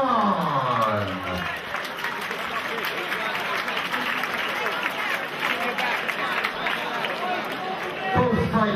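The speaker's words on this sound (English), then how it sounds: "Let's have a round of applause for both fighters." Crowd applause and cheering at a cage fight after the bout ends, a busy roar of clapping and voices filling the arena, with an announcer's voice speaking over it at the start.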